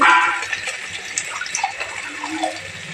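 Water poured into a pan of frying fish curry, a loud rushing splash at first that settles into bubbling and hissing with small clinks, close and alone.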